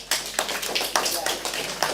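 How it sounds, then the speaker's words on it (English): A classroom of students clapping for themselves, a short burst of quick, scattered hand claps at moderate level with no talk over it. "Give a good clap for yourselves."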